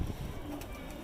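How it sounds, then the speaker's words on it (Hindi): Pigeons cooing on a rooftop loft, soft low murmuring coos close by over a steady background hum. "आपके कबूतर बहुत ही खूबसूरत हैं।"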